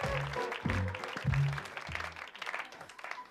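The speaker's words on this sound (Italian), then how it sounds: "Forte applauso" Loud applause from a comedy show audience greeting a bassist as he is introduced on stage, dense clapping mixed with cheering and musical tones underneath.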